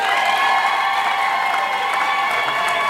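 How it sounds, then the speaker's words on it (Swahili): An audience at a public speech in Bukombe claps together in sustained applause, a dense, even patter of many hands heard at moderate distance, continuing without a break. "makofi haya hayatoshi"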